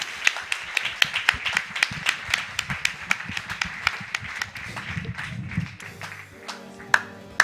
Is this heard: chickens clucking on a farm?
no